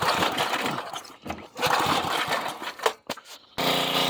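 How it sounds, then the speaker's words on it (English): A 1990s Sears Craftsman portable generator engine cranks with choppy, sputtering bursts, cuts out briefly, then catches and settles into a steady running drone, loud and near. "Got it running. Fires right up."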